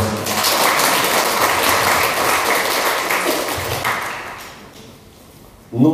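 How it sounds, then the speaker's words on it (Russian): An audience applauding a speaker at a business seminar, thick clapping that holds strong for several seconds, then thins and fades toward the end before a sudden loud thump at the close. "тебе сейчас аплодируют за интересно и полезно"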